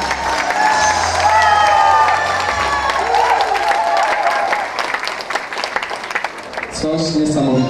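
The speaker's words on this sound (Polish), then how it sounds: "Brawa dla wszystkich panów" Loud crowd applause with cheering at a dance party, rising clapping and shouts from many people, while someone talks through a microphone near the end.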